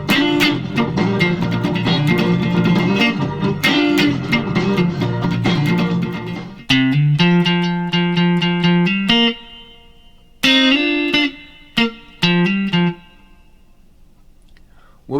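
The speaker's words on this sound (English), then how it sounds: "Next, we'll do our main riff, and our main riff will sound like this" An electric guitar plays the main riff of a song, bright clean hammered and picked notes in repeated phrases, first under a busy backing mix, then alone and close with short pauses.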